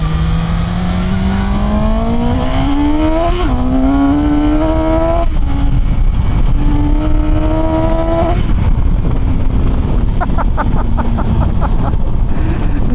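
A loud Suzuki GSX-S750 motorcycle engine revs up through several gears on a highway, pitch climbing and dropping at each shift, with strong wind roar throughout.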